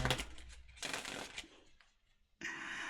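Tarot cards shuffled by hand in two quick riffling bursts, close and fairly quiet, followed by a brief pause and a final flutter of cards.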